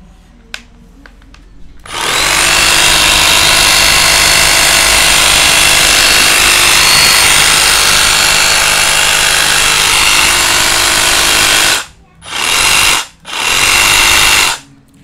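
A Milwaukee 2719 cordless reciprocating saw runs loud and continuous for about ten seconds, then stops and restarts in two short bursts.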